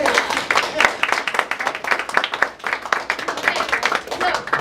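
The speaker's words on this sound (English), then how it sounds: "Let's give a big round of applause." Audience applause at a live voter-awareness event as a participant is invited on stage: dense, steady clapping from many hands runs the whole stretch at moderate loudness, with some voices mixed in.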